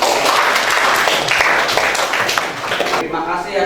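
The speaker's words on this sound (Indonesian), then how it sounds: "Sekali lagi kita tepuk tangan untuk kita semua" An audience in a teacher-training class session claps loudly together in a thick, continuous burst that runs for about three seconds and then drops away, with voices mixed into the noise.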